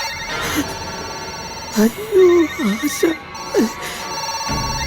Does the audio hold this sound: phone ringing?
yes